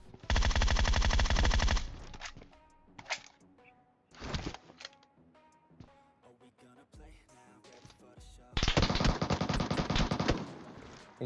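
Automatic MK14 rifle fire in PUBG Mobile, two long rapid bursts at the start and end with short clusters of shots between, loud and close with no talk over it.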